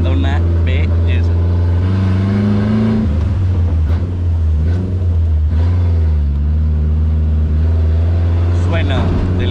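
A car's engine idling with a deep, steady rumble and swelling into revs at an outdoor car show, loud and close, with voices talking over it.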